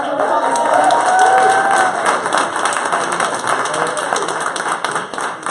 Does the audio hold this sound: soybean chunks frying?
no